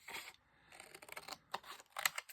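Scissors snipping through paper Easter printables up close, a quick irregular series of crisp cutting snips with short pauses between, no talk.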